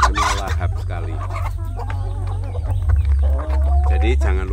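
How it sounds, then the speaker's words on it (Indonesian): Indonesian village chickens cluck and chatter in a loose, overlapping stream while feeding on cassava leaves, close by, with a steady low hum underneath and a person talking over them. "Ayam kampung itu suka makan daun singkong ya."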